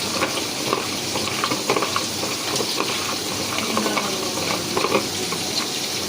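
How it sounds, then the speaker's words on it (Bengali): Rohu fish fries in a pan, a dense, even sizzle with light crackles and some stirring or scraping throughout, close up and with no one speaking. "মাছ ভাজা করে"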